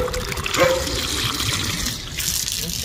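Plain fresh water poured out for pigeons in a breeding setup, a steady trickling stream that runs close and clear for a few seconds with no talk.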